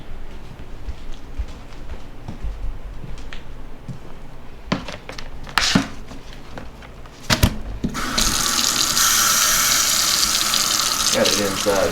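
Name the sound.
warm tap water running for rinsing a tie-dye tee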